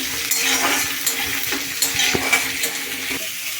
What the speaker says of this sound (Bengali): পেঁয়াজগুলো দেবো, তারপরে আলু, এগুলো সব একসাথে ভেজে নেবো